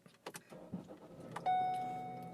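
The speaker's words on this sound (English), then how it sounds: "Let me go start her car up" A 2013 Ford Escape being started: a few soft clicks and rustles, then the engine catches with a sudden burst and settles into a steady idle hum, close and fairly quiet.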